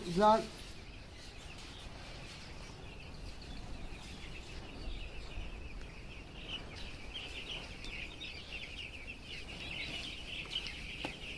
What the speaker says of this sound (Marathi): आता तुम्ही पक्षी बघून घ्या.